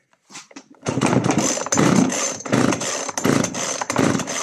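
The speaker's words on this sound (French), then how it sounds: "le moteur, il fait quand même un drôle de bruit" A small two-stroke McCulloch brushcutter engine starts up and runs at a steady, loud buzz, with brief sputters at the start and slight dips in pitch.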